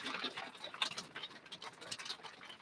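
Rain falls outdoors as a faint, continuous patter with scattered soft taps, distant and steady, with no voices over it.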